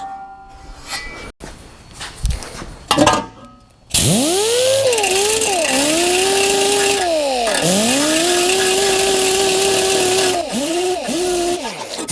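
A grinder works shortened 409 valve covers during metal finishing. Scattered clatter gives way to a loud, sustained motor whine whose pitch sags repeatedly as the tool bites into the metal, then recovers.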